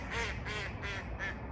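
Ducks startled into a burst of quacking, four loud raspy calls in quick succession close by over steady outdoor background noise.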